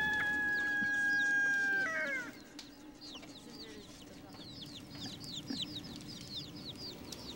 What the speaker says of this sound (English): It was a rooster that woke me up.